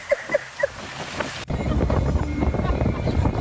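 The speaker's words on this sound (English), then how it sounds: "The wind is so strong, he's trying to take the tent." Strong wind buffets an outdoor scene where a tent is being blown away, a sudden loud, rough rush of gusts hitting the microphone after a brief quieter stretch with a few voices.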